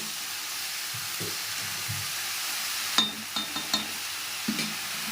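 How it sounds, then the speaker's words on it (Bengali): Elephant foot yam stalks frying with shrimp, cumin and coriander powder in a pan, giving a soft steady sizzle broken by a run of scraping stirs from a spatula, close and fairly quiet with no talk. "এটা একটু ভালো মতন ভেজে ভাজা ভাজা হয়ে একটু মজে যাবে"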